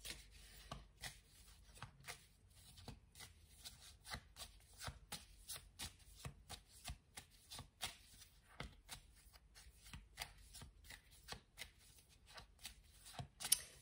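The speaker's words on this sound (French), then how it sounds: "il faut que je prenne une carte du tarot de Marseille" Tarot de Marseille cards are shuffled by hand close up, with a steady, rhythmic run of soft slides and riffles repeating throughout in a quiet room.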